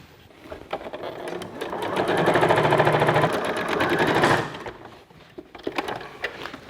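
Sewing machine stitching a closed seam in a garment's lining, running steadily for about two seconds in a close, moderately loud burst, with quieter handling noises before and after.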